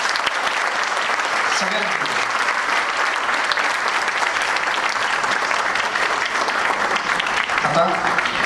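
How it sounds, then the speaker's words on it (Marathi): Loud, sustained applause for performers fills the space, a dense continuous wash of clapping from a crowd, with a voice speaking briefly over it near the start and again near the end. "तुमच्यासाठी पुन्हा जोरदार टाळ्या एकदम"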